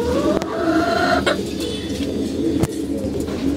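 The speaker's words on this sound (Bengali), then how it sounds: "মুরগিটা কক করতেছে" A hen clucking in a coop kept alongside pigeons, short calls close by over steady background noise with a few sharp knocks.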